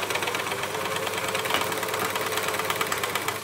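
An Elna L4 overlocker sews super stretch fabric, a fast steady whirring chatter of needle and knives running continuously at close range with no talking.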